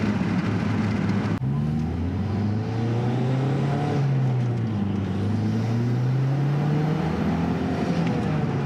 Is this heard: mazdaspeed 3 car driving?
yes